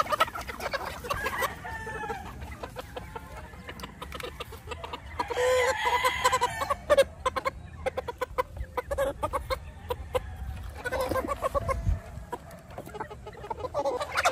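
Chickens cluck and a rooster crows in a backyard poultry setting just before being bathed with an anti-lice shampoo, a steady chorus of close, overlapping calls with brief louder bursts and no talking.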